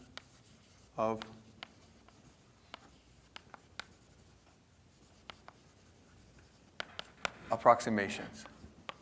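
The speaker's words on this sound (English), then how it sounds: "Let me actually write the first approximation." Chalk or marker writing on a board during a doctoral lecture on numerical methods, scattered short taps and scratchy strokes, faint and near, with a lecturer speaking in between.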